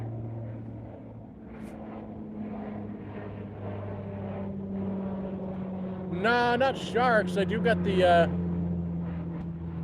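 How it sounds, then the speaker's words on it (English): An OPP police float plane passes overhead above a wooded area, its steady low engine drone heard under a voice that grows louder toward the end. "the OPP flying overhead right now. The float plane."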